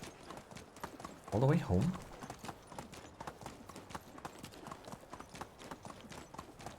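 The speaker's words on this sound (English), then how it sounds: "Can my horse gallop" A horse's hooves beat in a steady, rapid clip-clop rhythm on the ground in the Medieval Dynasty game, running throughout at moderate level beneath someone speaking.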